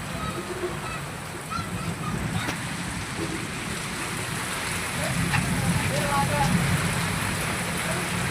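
Steady rain falling and splashing on surfaces in a village during the season's first heavy rain, a continuous hiss that grows slightly louder toward the end, with faint voices underneath.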